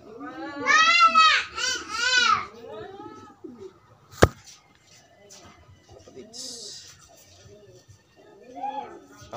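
A pigeon coos in a row of close, throaty, wavering calls at the start, then quieter calls return later, mixed with someone talking and a single sharp click.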